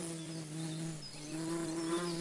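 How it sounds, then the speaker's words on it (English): A bee buzzes steadily close by, a thin droning hum that wavers slightly in pitch throughout, alone without talk. "A bee?"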